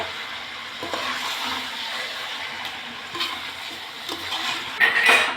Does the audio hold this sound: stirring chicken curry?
yes